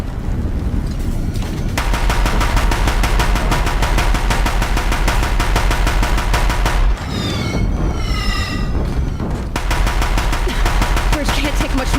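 Deathbringer war machines in Horizon Zero Dawn pour sustained rapid gunfire onto a bridge, a loud continuous mechanical rattle of dense shots with a brief pause and whooshing sweeps before the barrage resumes.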